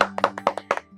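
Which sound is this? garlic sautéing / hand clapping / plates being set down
hand clapping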